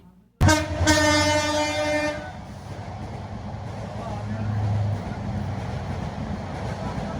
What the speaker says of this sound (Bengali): ট্রেন যখন আওয়াজটা দিছে ভাই